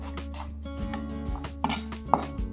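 Shallots and garlic being roughly sliced by hand for a northern-style laksa with mackerel, giving soft knife taps on a board with a couple of sharper knocks, close by over a steady low kitchen hum.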